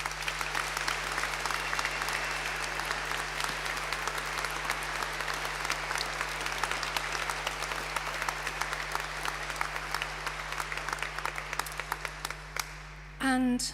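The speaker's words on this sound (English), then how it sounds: "Can we give all of those colleagues a huge round of applause," Sustained audience applause fills a graduation ceremony hall, a dense, steady wash of many hands clapping for the full stretch before it fades out and a brief burst of other sound arrives at the very end.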